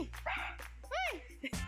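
A dog whimpers and yips in a short burst of high, rising and falling cries, close and fairly clear over a steady low hum, with a voice speaking briefly around it.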